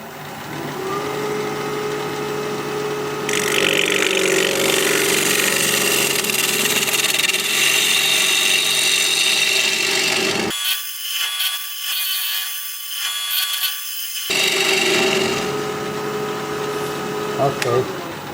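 A gouge cutting an olive wood dish on a wood lathe: a steady scraping, shaving whir over the spinning motor's hum, broken by a short pause in cutting near the end before the cut resumes.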